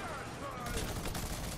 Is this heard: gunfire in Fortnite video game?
yes